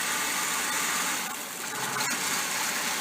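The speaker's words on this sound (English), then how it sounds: "Hear how terrible it runs every time he does that?" A 2000 Ford Taurus engine runs rough with its EGR solenoid grounded, giving a steady, close, uneven idling drone that dips briefly in the middle.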